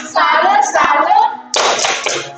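Rhythmic group clapping alongside chanting voices, loud and close, in two bursts with a short break between, during a children's church gathering.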